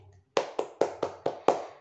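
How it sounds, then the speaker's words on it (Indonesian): A primary school class gives six sharp, evenly spaced claps in quick succession, close and clear against a quiet room. "Tepuk tangan sekali lagi"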